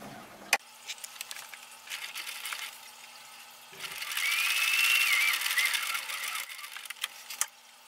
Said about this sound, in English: we're going to sew just a little ways up here on the straight edge